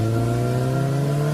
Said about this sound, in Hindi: 5 दोस्त बड़ी स्पीड में बाइक चलाए चले जा रहे थे